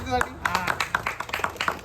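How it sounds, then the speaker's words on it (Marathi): A crowd at a village cricket tournament prize announcement claps in an uneven burst of applause, fairly close, with voices talking and calling out over the clapping. "जोरदार टाळ्या"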